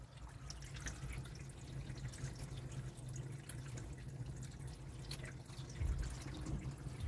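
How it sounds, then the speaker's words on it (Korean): Water drips and trickles inside the trunk of a Honda Civic with rear-collision damage during a leak test, a steady wet patter over a low background rumble with no voices. "물이 생각보다 좀 많이 들어오는데요"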